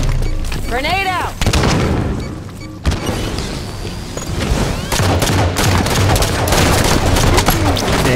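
Loud Halo 5 multiplayer battle din with heavy explosive booms and rapid weapon fire, a grenade blast among continuous sustained shooting, and a voice speaking over part of it.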